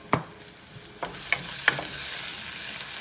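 Garlic frying in oil in a pan, a close crackling sizzle broken by several sharp stirring scrapes and clinks over about three seconds, no talking.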